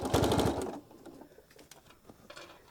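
A sewing machine runs a short burst of rapid stitching over fabric seams, then stops, leaving faint ticks and small mechanical clicks before a brief quieter run near the end.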